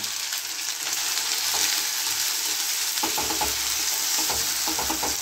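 Chopped tomato hitting ginger paste in a hot pan for a vegetable moong dal, giving a steady bright sizzle throughout, with spoon stirring and scraping sounds picking up in the second half; no talking.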